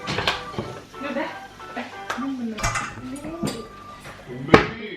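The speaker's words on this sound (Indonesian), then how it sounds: "Itu ada yang lagi kerja bakti nyuci piring." Dishes being washed during a group cooking get-together, with clinking plates, cutlery clatter and sharp knocks of crockery close by, scattered irregularly while people chat over the clatter.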